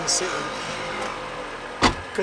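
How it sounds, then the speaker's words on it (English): A Mazda MX-5 Miata NB idles steadily after being started, a low continuous engine hum close by, with a couple of brief mechanical clicks over it. "So I've just started the car up just to let it warm up"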